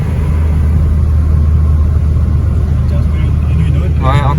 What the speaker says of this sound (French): Ouais, encore une Volkswagen.